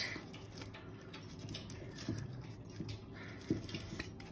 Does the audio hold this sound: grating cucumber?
no